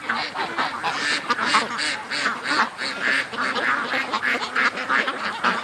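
A flock of ducks quacks steadily and busily at close range, with overlapping calls filling the air in a continuous chatter.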